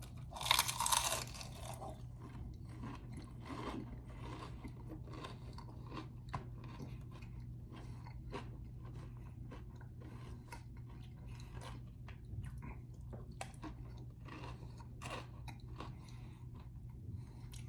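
Bites of hard-shell fried chicken from Pioneer Chicken are chewed close to the mic, with a loud crunch at the start and then steady soft crunching and chewing over a low background hum, no talk.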